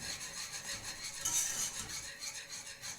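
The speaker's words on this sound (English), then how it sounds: "we're just gonna whisk it together until it's nice and smooth" A whisk scrapes steadily against a pan of white cheddar and Parmesan cheese sauce, giving a soft, continuous rhythmic rasp that is close and fairly quiet.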